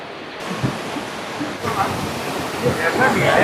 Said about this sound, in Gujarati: જો ઉપર છે વોટરફોલ, અહીંયા પાણી જાય છે